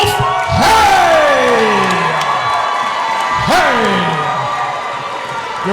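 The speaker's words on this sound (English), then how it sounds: "Brandon Hay soaking in all of this crowd noise tonight" A loud arena crowd cheers and roars at a K4 Fighting MMA event in Buffalo, New York, with sustained whoops and two rising shouted calls over the din, and an announcer's voice briefly heard.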